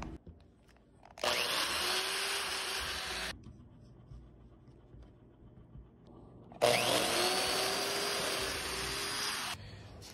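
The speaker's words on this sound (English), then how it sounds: "Drill some holes." A power drill bores holes in wood in two loud, steady whirring bursts of a few seconds each, separated by a quieter pause with faint handling noise.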